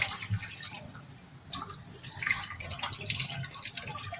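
Vegetables being rinsed in a strainer under running water in a home kitchen, a faint steady trickle and splash with scattered drips, close by and without talk.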